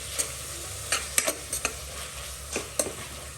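A vegetable mixture for frankie, with soy sauce, ketchup and garam masala, sizzles in a pan while a spoon scrapes and taps the metal in quick, irregular strokes close by.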